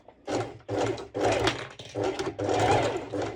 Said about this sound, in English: So my my sew machine is quite friendly